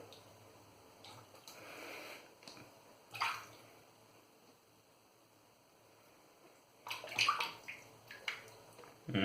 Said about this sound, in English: Just gonna rinse off the brush handle really quick